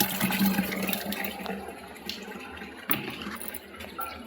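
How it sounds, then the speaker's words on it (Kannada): Water pours into a drum barrel as a soft, continuous rushing wash heard at a distance, fairly faint, with a few small knocks and no talk. "ನೀರು ತುಂಬ್ಕೊತೀನಿ ರೀ"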